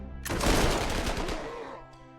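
Artillery bombardment in the video game Panzer Corps 2: a single loud burst of rumbling, crackling explosive fire that swells quickly, holds about a second, then fades into a low steady hum.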